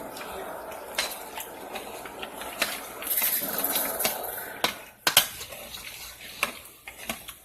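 Browning oxtails for Jamaican-style oxtails being stirred in a pot, with scattered scrapes and clanks of a utensil against the pot and a soft wet sizzle underneath, close but fairly quiet.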